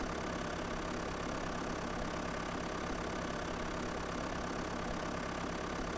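A tractor engine in Farming Simulator 2011 runs at a steady, unbroken drone, with low rumble and a dense mid-range hum that holds level for the whole stretch and has no voices over it.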